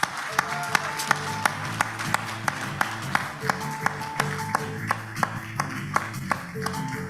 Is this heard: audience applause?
yes